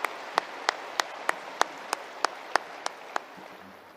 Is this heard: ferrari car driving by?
no